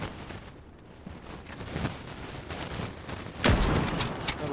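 Gunfire in the Rainbow Six Siege video game, a burst of shots with one loud sharp report near the end over a steady background of game noise.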